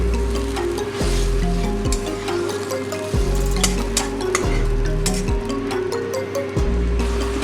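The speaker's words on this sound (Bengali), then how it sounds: "অল্প অল্প করে জল দিয়ে আমি ভালো করে কষিয়ে নেব।" A spice mixture fries down in a pan for a potato, pointed gourd and egg curry, with small splashes of water added, giving a loud, steady bubbling sizzle with stirring scrapes and short hissy bursts throughout, without talk.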